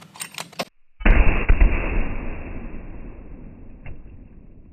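One sharp, loud rifle shot from a 7mm PRC firing a 150-grain Nosler Expansion Tip bullet at a pork shoulder target. It comes after a moment of quiet and rolls off in a long outdoor echo.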